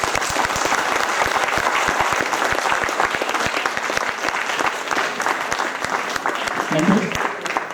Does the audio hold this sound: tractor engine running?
no